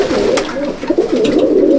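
Sturdy pigeons coo continuously in a loft, a dense, close, low warbling chorus with no voices over it.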